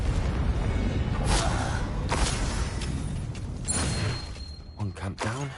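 Heavy, rumbling blasts and booming bursts from the Confringo explosion spell in the Hogwarts Legacy video game, a dense roar with a few sharper hits before fading into a short voice at the end.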